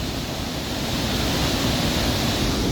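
A waterfall along a walking trail with steps, heard as a loud, constant broadband rush of falling water that fills the whole span without a break.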